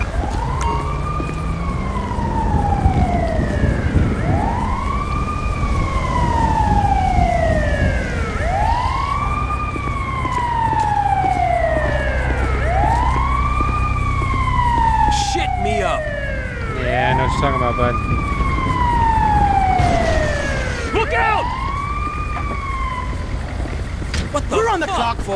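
Wailing emergency siren from a police or ambulance vehicle in the video game GTA V, rising and falling in long repeated sweeps for the whole stretch, loud and close over engine rumble, with faint talk in the background.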